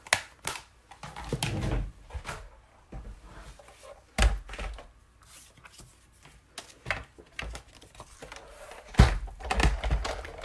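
A Big Shot die-cutting machine rolls a large paper label through its cutting dies, making a series of loud thunks, clunks and cranking knocks that come and go over about ten seconds, close by with no talking.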